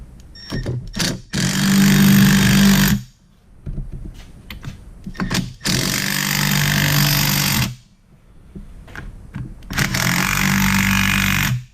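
A power driver runs self-threading cylinder bolts into a Stihl MS290 chainsaw during reassembly, giving three loud, sustained whirring bursts separated by short pauses and scattered clicks of parts being handled.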